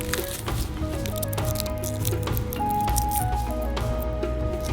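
Garlic being crushed into a pizza mixture with salt gives a continuous soft squishing and pressing sound, heard close and steady over a background of sustained tonal music.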